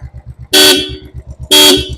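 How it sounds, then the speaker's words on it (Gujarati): Royal Enfield Thunderbird 350 motorcycle horn sounds two loud, sharp blasts about a second apart, each under half a second, over the steady thumping pulse of the idling single-cylinder engine. "હોર્ન પણ જોરદાર વાગે છે"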